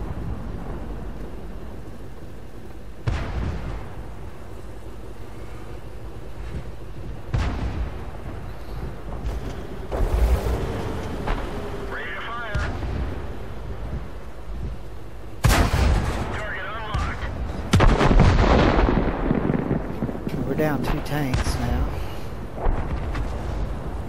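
Tank guns in World of Tanks, a T67 tank destroyer battle, fire in several heavy booming blasts with long rumbling tails, separated by quieter stretches of engine and ambient rumble.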